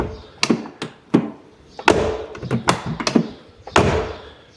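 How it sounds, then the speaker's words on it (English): Car doors on a 34-year-old Alfa Romeo 33, rescued after 23 years off the road, shutting several times in a row. Each close is a firm, close thunk or tap with a short latch click, and no one speaks. "Very odd to have a 33 closing the doors this well."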